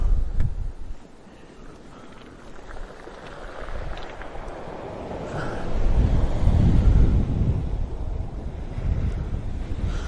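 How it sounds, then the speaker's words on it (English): Sea waves roll in on the shore at Cardiff, a continuous broad wash of surf that swells louder toward the middle, with gusty wind buffeting the microphone and no talking. "Waves are absolutely rolling in this area."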